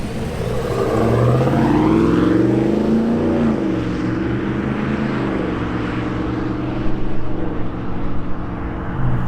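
GM 6.6L gas truck fitted with a Borla S-Type exhaust pulling away from a stop and building speed, a deep exhaust note swelling and shifting through gears, heard from outside the cab.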